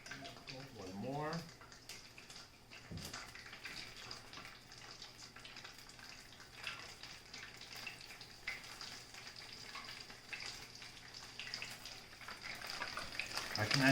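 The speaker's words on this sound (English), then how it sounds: "The oil is nice and hot, and it will be well fried inside." Fish and chips frying in a pot of hot oil, a steady soft crackling sizzle running throughout at moderate level, with a brief splash or clatter near the start and a faint hum underneath.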